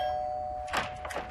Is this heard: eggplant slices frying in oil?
no